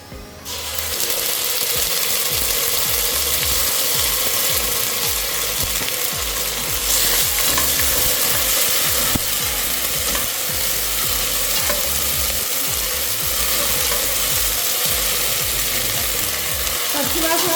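Ginger garlic paste frying in a pan for biryani, a loud, dense, unbroken sizzle that starts abruptly and holds steady throughout, with faint scraping of stirring underneath and no speech.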